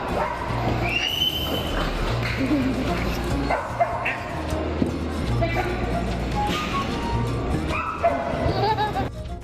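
Several dogs of various breeds bark, yip and whimper at an outdoor dog show held during a summer festival in Yelagiri, with continuous crowd chatter and a steady low hum underneath.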